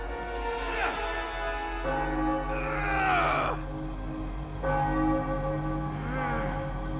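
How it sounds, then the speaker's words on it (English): In the video game Spider-Man 3, a church bell rings close and loud with sustained tolling tones, and a strained voice groans and cries out amid the ringing. "being this close to a ringing church bell would deafen Peter Parker"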